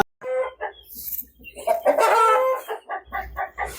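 Nearby roosters at a native chicken farm crow and cluck in a busy burst, one loud drawn-out crow rising in the middle among short clucks.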